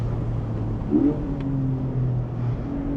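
A 2024 Porsche Boxster GTS 4.0 engine pulls in third gear with a steady, deep drone from inside the cabin, its pitch edging upward as it accelerates, and no talk over it.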